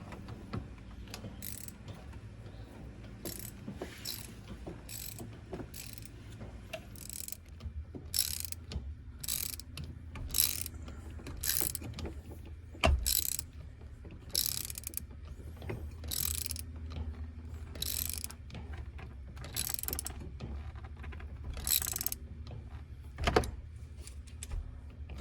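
A ratchet tightens the shifter bolts on an 87-93 Foxbody Mustang, giving close, repeated bursts of sharp clicking in uneven strokes with brief pauses between them.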